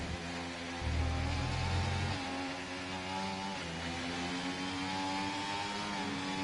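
Formula 1 race car engine in the F1 24 video game during a rainy sprint race at the Brazilian GP, Interlagos, with a loud steady high-pitched whine shifting pitch through gear changes and a brief low rumble near the start.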